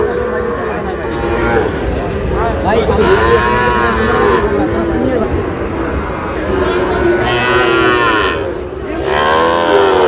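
A young bull calf moos loudly several times at a cattle farm in Comilla, Bangladesh, drawn-out calls rising and falling, with people talking nearby between the calls.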